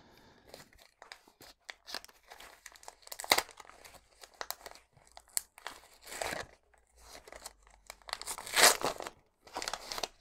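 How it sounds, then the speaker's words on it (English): Sticky tape is torn and peeled off a mailed parcel holding fountain pen supplies, with close, irregular bursts of ripping and crinkling packaging between brief quiet gaps. "you're going to have to see me fumbling around with sticky tape for a minute"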